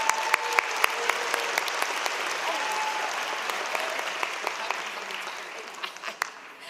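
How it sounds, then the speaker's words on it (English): Applause from a law school commencement audience honoring the judges, moderately distant, with sharp individual claps standing out from the crowd and gradually thinning toward the end. "We can do a clap."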